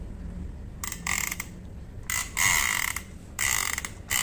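Ryobi Adventure 120 fishing reel's clicker ratchet, heard up close as four short bursts of rapid, sharp metallic clicking separated by brief pauses, with no talk.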